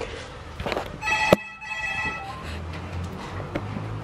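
A telephone rings once in a short bright electronic burst indoors, followed by quieter room noise and a low hum.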